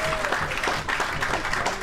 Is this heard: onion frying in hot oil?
no